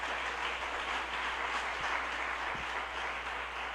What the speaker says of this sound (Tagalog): pumalakpak ng napakalakas